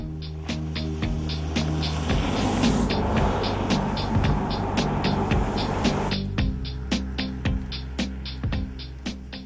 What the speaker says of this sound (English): The 370Z doesn't sound as much like a sports car, but more like a Japan-made family station wagon.